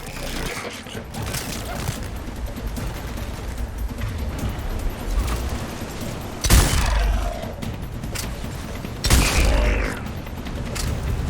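Combat gunfire in the video game Mass Effect 3, with a steady background of mechanical noise and two sharp, loud bursts of shots partway through, and no voices.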